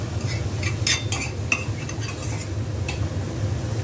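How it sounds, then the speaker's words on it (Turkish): Grated carrot sautéed in a little oil, stirred with a utensil that scrapes and clinks against the pan in irregular taps over a soft background sizzle. "havuç da rendeledim. Soteleyeceğim şimdi."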